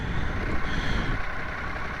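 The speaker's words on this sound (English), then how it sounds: "So there's a car just pulled up behind me" A car pulls up and idles behind a parked motorcycle on a winter road, a steady low engine rumble close by that holds evenly throughout with no talk.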